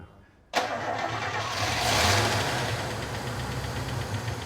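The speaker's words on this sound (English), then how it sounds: "What a sound little engine that is." A classic car engine, just repaired, cranks and catches after a brief silence, then settles into a loud, steady idle close by with a slight rise in revs.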